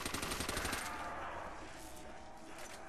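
Rapid automatic gunfire from a weapon in Call of Duty Zombies on the Verruckt map, a dense burst of shots for the first second that then gives way to lingering echoes and game noise.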